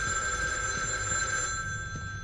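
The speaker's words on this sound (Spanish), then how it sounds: "Epa, está sonando un teléfono." A telephone rings inside the horror game The Evil Within 2, its steady electronic bell tone held level and clear at moderate loudness for the whole stretch, with faint low rumbles beneath and no talk.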